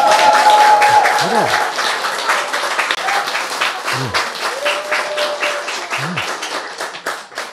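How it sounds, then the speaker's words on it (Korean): Lecture audience applause, a short burst of many hands clapping with crisp, steady claps that taper off, while a voice speaks over it and a few tonal sounds rise and fall underneath. "왜 박수 안 쳐요?"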